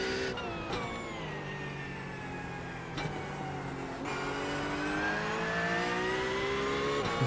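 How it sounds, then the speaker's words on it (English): A Ferrari GT3 race car engine at Imola, in a VR racing game, drones loudly and steadily. Pitch climbs as it accelerates, with brief breaks at gear shifts. "The Ferrari's a bit squealy on exit"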